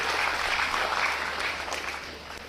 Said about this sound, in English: clap if you want to, my dear young lady